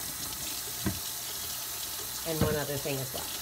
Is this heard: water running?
yes